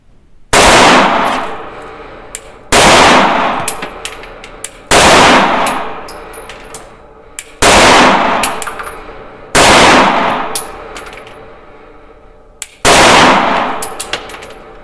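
Six loud, close gunshots from a CZ P09 pistol at a shooting range, fired singly about two seconds apart, each sharp crack ringing off into a short echoing tail, with faint metallic clinks between shots.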